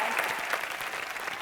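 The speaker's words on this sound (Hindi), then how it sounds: "तालियां।" Studio audience applause on a television entertainment show, a steady wash of many hands clapping at moderate volume for the whole moment, with a faint voice beneath.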